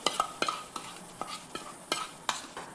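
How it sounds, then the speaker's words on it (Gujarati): A spoon stirs masala paste into a vegetable curry in a pan without added water, giving a series of sharp metallic scrapes and taps in an irregular rhythm over a faint sizzle, close by and without voices. "હવે તેને આપણે સરસ રીતે મિક્સ કરી દઈએ."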